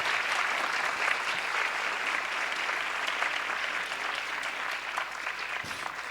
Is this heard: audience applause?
yes